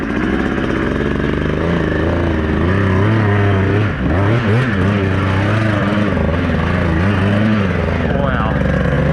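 A Beta 200RR two-stroke dirt bike engine held at high revs while riding through a deep section of a rough track, loud and close throughout, the pitch wavering up and down with the throttle, with a voice talking over it.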